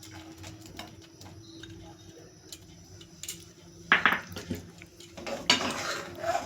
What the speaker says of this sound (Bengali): দিয়ে খানিকক্ষণ এবার নাড়তে হবে